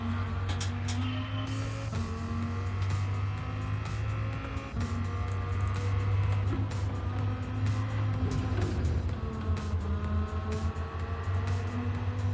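Race cars driving in Gran Turismo 7, a loud continuous engine drone with shifting revs and faint tyre noise as the pack runs ahead, steady throughout with no talk.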